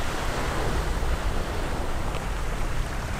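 Ocean waves wash steadily onto the shore in Japan, a continuous broad roar of surf mixed with some wind, loud and close with no voices.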